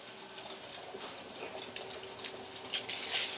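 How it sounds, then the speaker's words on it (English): Vegetables dropped into a hot pan for a teriyaki udon stir-fry with grilled shrimp, giving a steady, close-up sizzle and hiss that grows louder and more crackly near the end. "now we'll get our vegetables in"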